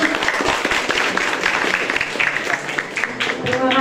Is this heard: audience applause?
yes